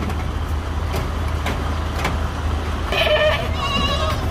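Goats being transported by truck bleat in several short calls toward the end, heard over a steady low vehicle engine hum.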